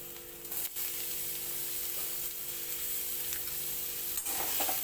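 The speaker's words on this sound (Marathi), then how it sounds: "आता लगेच टोमॅटो टाकून घेते" Tomatoes go into a pan of sizzling fried onions, giving a loud continuous hiss with a brief stir or two, up close and with no speech.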